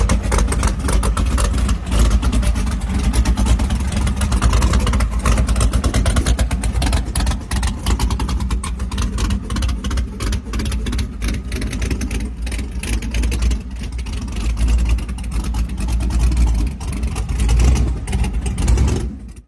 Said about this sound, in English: 1991 Mercedes-Benz SL Class drag car